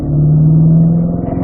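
A Corvette C8 Stingray on a driving-school track drops to third gear under braking, a loud close engine drone holding steady, then faltering into a rougher, pulsing rumble as the revs shift.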